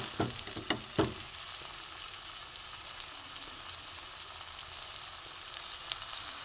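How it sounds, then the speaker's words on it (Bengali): Small flattened fritters of spiced shrimp-shell mixture frying in hot oil over low heat, a soft, steady sizzle with a few sharp taps and clinks at the start, then an even crackle throughout. "আমি ছোট ছোট বলের মতো করে একটু চ্যাপটা করে নেব, নিয়ে এটা আমি ভেজে নেব"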